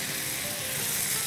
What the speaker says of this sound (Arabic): تحريك بواسطة ملعقة خشب شوي شوي